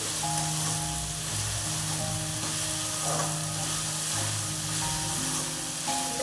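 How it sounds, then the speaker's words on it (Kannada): Vegetables for hotel-style vegetable upma frying in oil in a pan, a steady close sizzle running throughout with no talking. "ಸೆವೆಂಟಿ ಪರ್ಸೆಂಟ್ ತರಕಾರಿ ಎಣ್ಣೆಯಲ್ಲಿ ಫ್ರೈ ಆಗ್ತಾ ಇದೆ ನೋಡಿ"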